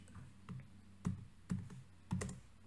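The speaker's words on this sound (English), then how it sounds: "I will just type in" A few quiet, distinct computer keyboard keystrokes tap out in an uneven rhythm, about five clicks, close and alone with no talking.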